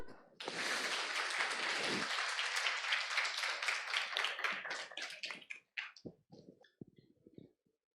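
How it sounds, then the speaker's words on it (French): Thunderous audience applause greets a guest named Nathan, erupting suddenly, holding loud and dense for several seconds, then thinning into scattered claps that fade out. "Faites un tonnerre d'applaudissements pour Nathan"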